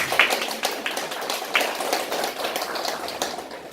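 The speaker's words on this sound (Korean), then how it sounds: "뜨거운 박수 부탁드립니다." Audience applause at a panel discussion forum, a dense steady patter of many hands clapping throughout with a couple of sharper louder claps near the start, moderately loud in a hall.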